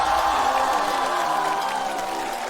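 A studio audience at a stand-up comedy competition show applauding to welcome a team, a steady wash of clapping and crowd noise that fades slightly toward the end.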